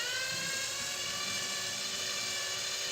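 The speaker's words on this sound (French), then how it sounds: "Et là vous venez percer le deuxième trou." A drill bores a second hole about 10 mm deep, giving a steady high-pitched whine that holds at an even, loud level throughout, with no talking.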